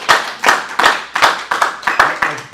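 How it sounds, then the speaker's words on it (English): Rhythmic, close hand clapping from a small church audience, about a dozen firm claps at a steady pace of roughly three per second. "Give Derek and Tanisha a hand clap."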